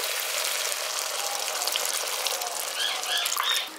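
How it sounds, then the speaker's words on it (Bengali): Water pours steadily into a pan of fish curry masala for a village-style dahi pabda curry, a continuous close gushing splash with a few brief bubbly chirps near the end. "এবার এর মধ্যে আমি পরিমাণ মতো জল দিয়ে দিচ্ছি"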